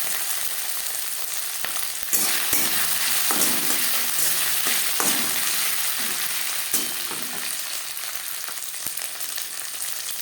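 Chickpea dal fries in a pan for a vegetarian cholar dal with a bright, steady sizzle. Occasional stirring scrapes and taps of a spoon sound close by, with no speech.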